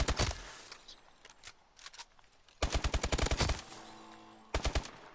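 Automatic gunfire from a weapon in the video game Call of Duty: Advanced Warfare, loud rapid bursts of shots separated by brief pauses, with a final short burst near the end.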